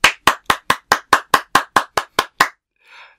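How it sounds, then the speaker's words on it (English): A single person claps about a dozen times in a quick, even rhythm, each clap sharp and close, and a brief soft rustle follows the last clap. "That was Alex clapping for himself"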